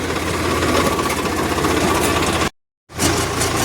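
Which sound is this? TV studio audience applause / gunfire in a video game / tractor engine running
tractor engine running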